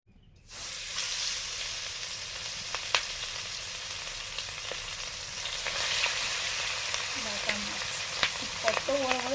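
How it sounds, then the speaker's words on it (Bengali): Fish frying in hot oil in a large pan, starting abruptly with a loud, steady sizzle and hiss that continues throughout, with occasional small pops and crackles, close up and without talk. "প্রথমে মাছ ভাজবো"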